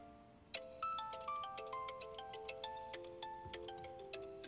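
A mobile phone ringtone plays a bright, repeating melodic tune of plucked tones, quiet and alone in a scene from a Chinese romance drama series.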